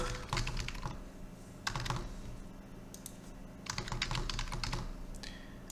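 Someone types a username and password on a computer keyboard while signing up for Scratch programming, clustered bursts of rapid key clicks separated by short pauses, close and steady with no talking.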